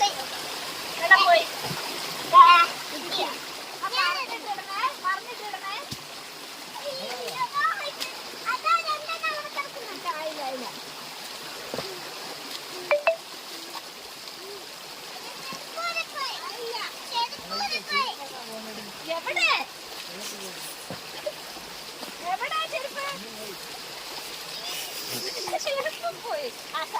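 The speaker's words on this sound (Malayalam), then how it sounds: "ഭയങ്കര ഒഴുക്ക വെള്ളത്തിന്" A fast-flowing stream in Wayanad rushes and splashes continuously in the background, while adults and children talk and call out over it throughout.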